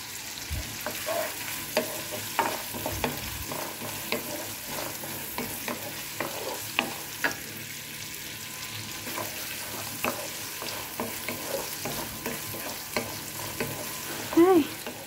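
Onion sautéing in a pan, a continuous hissing sizzle with frequent light scrapes and taps of a utensil stirring throughout, no voices.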